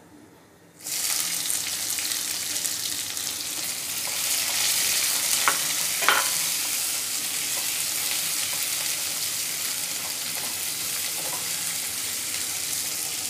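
Onion frying in a pan for a quinoa biryani, a loud steady sizzle that bursts in suddenly as it is added and keeps crackling close up, with a few stirring scrapes midway.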